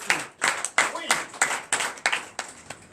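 A church congregation claps in acclamation during a service, a run of about eight quick, sharp bursts of hand claps in a fast rhythm, close and loud, with voices mixed in.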